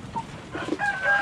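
Shamo rooster of about 9 pounds, with a few short, soft clucks and chirps scattered across a brief stretch of farmyard ambience.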